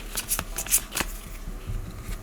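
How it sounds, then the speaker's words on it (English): Event cards from a board game deck being shuffled by hand, a quick series of crisp riffling snaps and soft slides close to the microphone in a quiet room. "so we'll shuffle these up"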